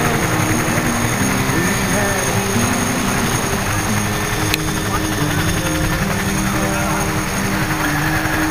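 Aircraft with Allison engines landing at an air show, using heavy reverse thrust; a loud, steady propeller and engine roar fills the whole stretch with a slight hum, while an announcer talks over it.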